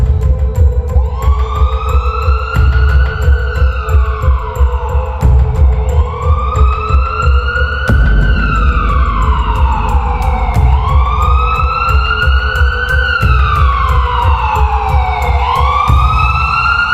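An ambulance siren wails loud and close, each rising-and-falling sweep repeating about every three seconds over a deep engine rumble, with no voices.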